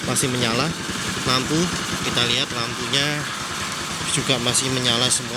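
A 2010 Suzuki Spin car engine idles steadily beneath someone talking, a constant low mechanical hum running under his speech.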